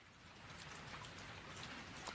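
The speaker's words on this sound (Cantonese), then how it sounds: "今日係落雨嘅一日" Steady rain falls as a story sound effect, giving an even, soft hiss of drops pattering on a surface with no pauses and no voices.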